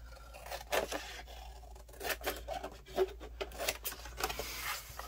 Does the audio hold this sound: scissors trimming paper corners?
yes